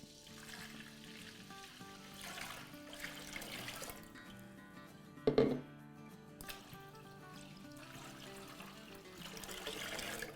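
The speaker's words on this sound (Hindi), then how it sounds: "अब इसमें हम पानी डालेंगे।" Water pouring steadily into a cooking pot of washed lentils for haleem, a quiet continuous splash with a brief louder gush midway.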